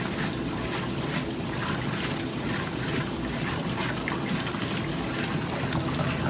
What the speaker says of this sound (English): You can see all the water rushing back into the tub down there